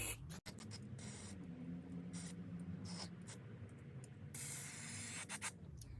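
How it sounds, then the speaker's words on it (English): A steady hiss of aerosol carb cleaner sprayed into a Stihl BR400 carburetor runs for several seconds, with a few short breaks and bursts, close by and fairly quiet. "You can spray right through it."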